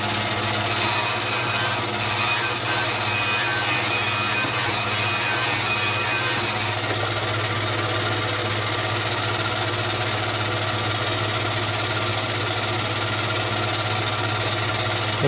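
Parts for a John Deere B tractor engine being ground during an engine rebuild, a steady, loud continuous motorized whir and buzz that carries on unbroken throughout, with no talking.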